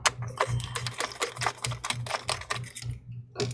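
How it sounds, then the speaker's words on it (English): A small screwdriver removing screws from an Asus VivoBook M1407KA laptop during a teardown, a quick run of sharp ticking clicks, close and clear, with no talking. "Let's try to remove all four screws."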